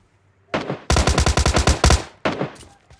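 Automatic gunfire in the PUBG Lite video game, a short burst, then a loud rapid string of about a dozen shots, then another short burst, close and punchy with no voices.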